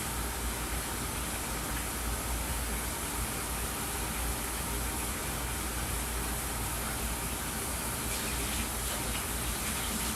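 Mixer paddle washed under running tap water, a steady loud gush of water close by, continuous with no pauses.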